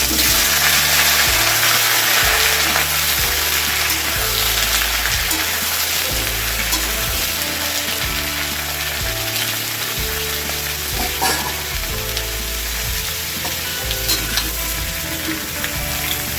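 Cut pieces of sweet pumpkin fry steadily in hot oil over previously fried whole spices, a loud continuous sizzle with stirring and clattering throughout, no voices.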